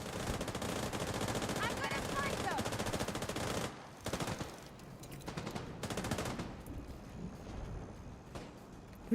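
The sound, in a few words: gunfire in The Division video game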